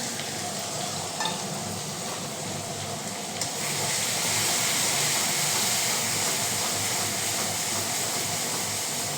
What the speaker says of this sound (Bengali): এবার মশলাটাকে আস্তে আস্তে কষাতে হবে।